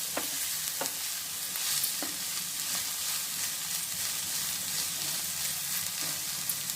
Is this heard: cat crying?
no